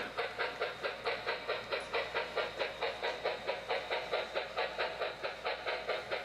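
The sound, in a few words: model railroad sound of articulated engine pulling coal train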